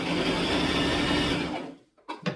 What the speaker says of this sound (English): Back stitch to seal the deal.